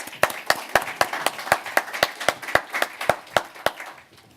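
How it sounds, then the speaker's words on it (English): At a board of education meeting, a few people clap in a steady, fairly even rhythm, with individual claps clearly separated and close, fading out near the end. "All right, let's give them a round of applause, please."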